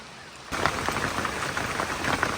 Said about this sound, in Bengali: বৃষ্টি শুরু হয়ে গেছে মুসলদারে